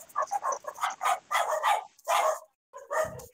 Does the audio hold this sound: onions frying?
no